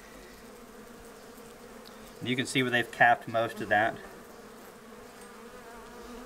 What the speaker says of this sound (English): Good healthy looking carny bees right there, just tons.